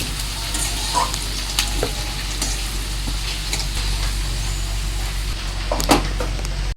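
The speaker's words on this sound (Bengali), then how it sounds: "আলুটাতে এখন আমরা নুন হলুদ দেবো না, এমনি লাল লাল করে একটু ভাজবো।" Cut potatoes fry in oil in a pan with no salt or turmeric, browning toward red for a fish curry; a constant close sizzle runs beneath occasional scrapes and clinks of stirring.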